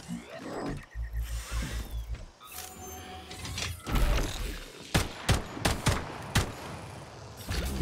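Gunfire in the video game Atomic Heart, with a burst of sharp, close shots in the second half, fired in quick irregular clusters over clanking mechanical game sounds.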